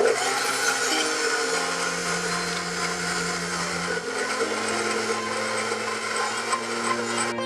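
An electric mixer or food processor whirs steadily at close range as it blends flour and oil for roghni naan dough, with a brief shift in motor pitch partway through.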